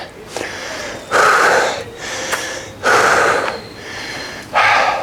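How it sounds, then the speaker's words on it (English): Heavy panting after a leg-power and hip-mobility workout exercise: three loud, drawn-out exhalations repeat at roughly even intervals, close to the listener, with short quieter breaths between and no talking. "Breathing."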